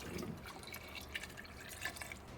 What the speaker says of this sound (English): Just put enough water till it reaches just over the top.